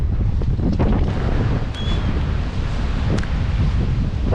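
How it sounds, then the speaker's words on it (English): Strong wind buffets the microphone at the Teignmouth seafront during a ride on an Inmotion V12 electric unicycle, a steady loud roar with faint surf underneath. "That wind is certainly coming back."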